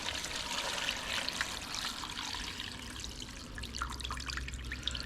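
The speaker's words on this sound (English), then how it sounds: "Gonna fill water up." Tap water runs steadily into a stock pot, a soft, continuous trickling and splashing at moderate distance, alone without speech.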